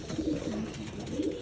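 Racing pigeons coo softly in a loft, repeated low throaty calls over a murmuring background.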